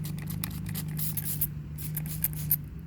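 Repeated short spritzes from a hand sprayer, irregular bursts of misting over a steady low mechanical hum.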